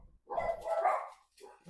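A dog barks indoors, probably at someone walking their dog outside, giving a drawn-out, mid-pitched bark and then a shorter one, moderately loud and close, with no talk over it.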